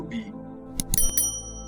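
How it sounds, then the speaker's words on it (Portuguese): A bright notification bell chime rings twice in quick succession over a soft music bed, short and clear with a lingering metallic ring. "Acione o sininho para receber nossas notificações"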